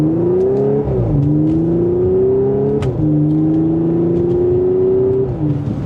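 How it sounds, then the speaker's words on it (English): A 2015 Audi S5 B8.5 accelerates hard with loud, near engine sound, rising through quick gear shifts in three pulls, with sharp exhaust crackles and pops between them. "The crackle of that exhaust just adds so much to this car"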